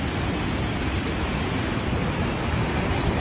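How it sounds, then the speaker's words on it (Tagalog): The swollen Abuan River in Ilagan, Isabela rushes past in flood, a loud, steady, broadband roar of churning water that fills the whole stretch without a break, with no voices. "Ngayon lang lumaki na naman ng ganito itong ilog."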